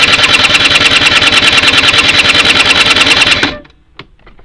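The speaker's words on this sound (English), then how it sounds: "So I'll just turn the ignition on and turn it over" A Peugeot Speedfight 2 scooter engine cranks over on the starter during a compression test, a loud, fast, even chugging rhythm for about three and a half seconds before cutting off, followed by a faint click.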